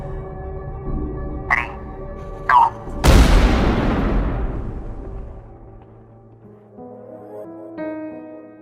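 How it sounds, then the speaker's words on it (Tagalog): A loud, heavy explosion sound effect bursts out after a couple of short metallic taps, then rumbles and fades slowly into a low tonal drone. "Isang malakas na pagsabog ang narinig nila Rice."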